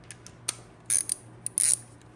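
A ratchet tightens the starter's main power cable on a Ski-Doo 500 Grand Touring snowmobile: a few short, crisp clicking bursts close up, two of them longer runs, with quiet gaps between.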